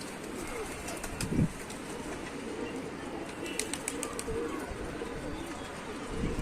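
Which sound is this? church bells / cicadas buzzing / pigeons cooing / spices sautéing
pigeons cooing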